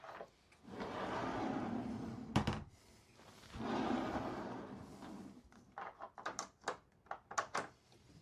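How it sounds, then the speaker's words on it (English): Solid pocket door in a 2026 Forest River Wildwood X-Lite 26ICE RV closet rolls along its track in two long rumbling slides, separated by a sharp knock, then a latch clicks and rattles in a quick burst of small taps, close and alone. "you have a solid pocket door over here. There's a latch."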